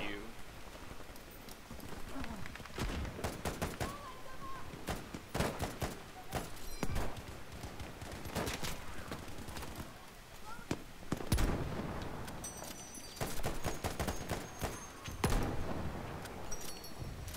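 Gunfire in the Battlefield V shooter game sounds as rapid, crackling bursts and scattered shots, fairly loud and near, broken by short gaps, with a player talking faintly beneath.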